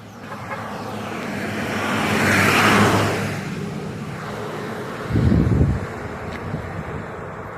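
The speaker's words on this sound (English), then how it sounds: "There's a truck right now, so" A truck passes on a nearby road beside an outdoor trebuchet shooting range, its rumble slowly rising and fading away, followed by a short, louder low burst of engine noise, all under breezy wind.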